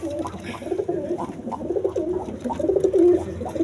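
A pair of Chulli pigeons coo close by in a soft, repeating rhythm of low throaty calls, the cooing running continuously through the whole stretch.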